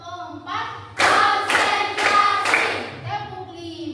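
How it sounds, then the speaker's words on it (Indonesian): Pupils in a classroom clap together four times in a steady, evenly spaced beat, loud and near, with a teacher's voice calling the count just before and children's voices trailing after. "Tepuk 4."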